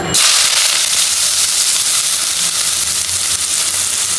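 Chopped onion and garlic hit a small amount of hot oil in a pan, a loud, steady close-up sizzle and crackle that holds unbroken, with no talking.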